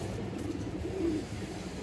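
A pigeon, a green-necked female among domestic pigeons, gives a brief soft coo against a low, busy background hum.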